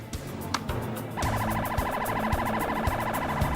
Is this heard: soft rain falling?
no